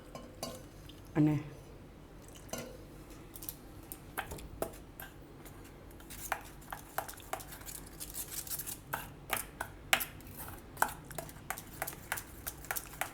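A spoon stirs milk powder into milk in a bowl for mango custard, making scattered light clinks and taps that quicken into a steady, close clatter while someone talks softly.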